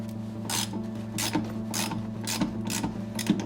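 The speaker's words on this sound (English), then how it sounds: "Undo some of these bolts here." Wrench ratcheting on rusted bolts of a Toyota Tacoma frame, repeated rhythmic rasping strokes with gritty clicks, close and steady for a few seconds.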